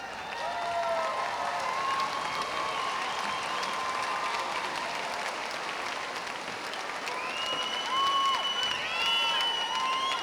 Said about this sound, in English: let's have all the graduates stand and applaud all these people that helped you